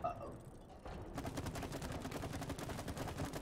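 Rapid gunfire in the It Takes Two video game, a dense, fast, steady stream of shots that starts after a brief lull and keeps going loudly to the end.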